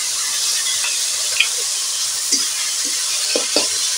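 A spice mix of cumin, ginger, chili, turmeric and coriander fries in hot oil in a pan with a steady, close sizzle, broken by a few soft stirring clinks and scrapes.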